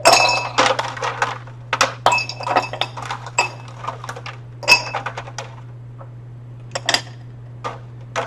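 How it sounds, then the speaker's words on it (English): Ice chunks tumble and clink against a glass beaker in a classroom lab, a quick cluster of sharp bright knocks followed by scattered single clinks over a steady low hum, close and fairly loud. "I get another beaker here. And I'm going to put on ice"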